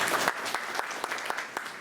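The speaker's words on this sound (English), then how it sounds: "Let's give a big round of applause for all of them." An audience applauds at a college exhibition of wild vegetables and medicinal plants, dense clapping with a few louder individual claps near the listener, briefly and without talk.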